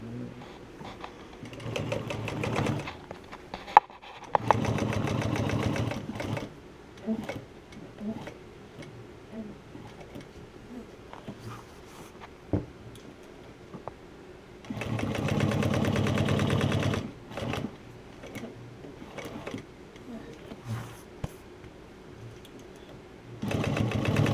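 A Juki walking foot sewing machine stitches car upholstery in several bursts of steady, close mechanical chugging. Quieter pauses and small clicks fall between the bursts, and faint speech occurs now and then.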